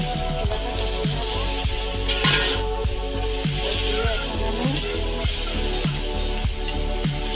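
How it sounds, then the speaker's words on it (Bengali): Spice paste with turmeric and chili powder fries in a pan, a continuous sizzling hiss broken by steady, rhythmic scraping strokes of a spatula, close and fairly loud. "মরিচের গুঁড়ো দিয়ে এভাবে আমি মশলাটা কষিয়ে নেব।"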